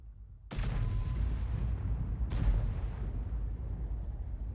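Artillery shells fire in the World of Tanks video game, heard as two sharp, heavy booms about two seconds apart. Each boom leaves a long, rumbling tail behind it.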